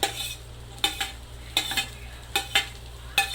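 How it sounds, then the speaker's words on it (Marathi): Steady sizzle of green chillies frying in a hot-oil tempering with cumin and mustard seeds, broken by several sharp scraping stirs of a spoon against the pan. "आता मिरची टाकते मी फोडणीला"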